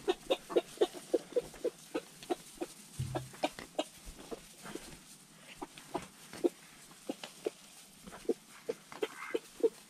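Chickens in a greenhouse chicken coop cluck in quick repeated bursts, several birds close by making short rhythmic calls with irregular pauses, with ducks also kept in the coop.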